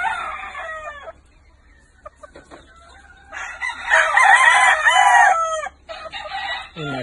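Young hen clucking and squawking close by, a few short calls, then a louder burst of excited, warbling cackles.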